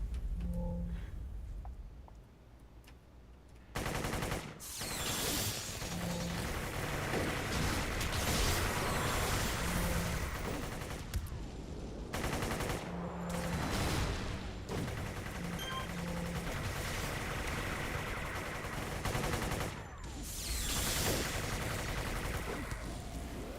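Gunfire in City of Heroes on the Homecoming server, sustained bursts of shots rattling almost continuously through the scene, with brief lulls between volleys and layered game effects underneath.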